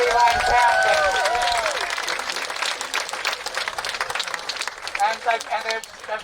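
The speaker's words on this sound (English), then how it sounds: "Give her a huge round of applause." A rally crowd at the Bell Tower Rally 2020 applauds Elaine Townsend. A voice speaks briefly at the start, then many hands clap in a busy, uneven patter that thins toward the end.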